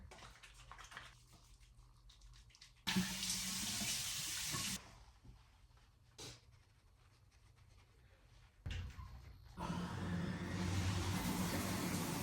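Tap water runs loudly in two long bursts while oil is washed off a face with a foaming cleanser in a home shower, with quieter handling sounds between the bursts and no talking.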